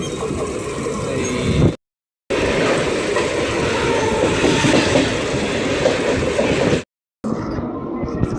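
Mumbai local train noise at Dadar station, a loud continuous rumble and rattle of railcars running steadily throughout, broken by two brief gaps of silence.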